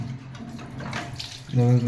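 Water gushes and splashes steadily from the opened drain filter of a Bosch front-loading washing machine, close and continuous, with a louder, fuller pour near the end.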